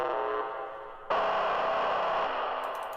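A heavily distorted, buzzy industrial techno synth chord rings out in Ableton, then a second harsher chord strikes suddenly and sustains, gritty and loud with a faint ticking near the end.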